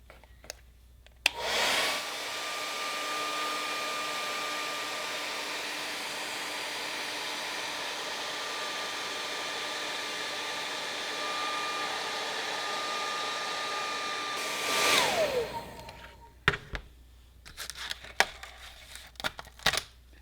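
A heat tool blowing hot air on a Delrin plastic seam during a repair, a steady loud whirring hiss held for about thirteen seconds, followed by small handling clicks and taps.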